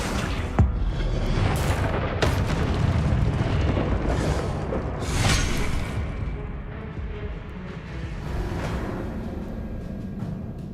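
A Confringo blasting spell goes off in Hogwarts Legacy, a loud booming burst with a rumbling tail, followed by further thumping impacts and another swelling blast over a dense, continuous game soundscape.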